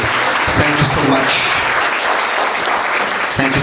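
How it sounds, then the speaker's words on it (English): Audience at a book launch applauding, a dense continuous patter of clapping filling the whole stretch at moderate level, with a voice briefly over it. "Let's give sports, arts and culture a round of applause"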